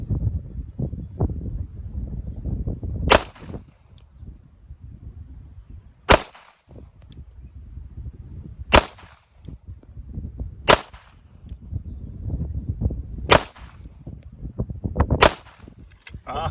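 Six sharp, loud shots from a Glock 21 pistol ring out at an outdoor shooting range, evenly spaced a few seconds apart, each a crisp crack over rumbling wind and low background noise.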